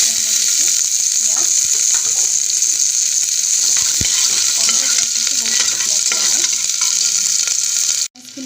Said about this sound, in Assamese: এনেদৰে অকণমান ৰঙচুৱা হোৱালৈকে মই ভাজি থাকিম।